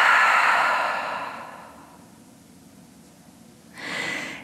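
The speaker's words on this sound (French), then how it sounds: "ouvre la bouche, expire." A long breath pushed out through the open mouth at the end of a tonic vinyasa yoga class, loud and airy at first and then fading. A second, shorter exhale follows near the end.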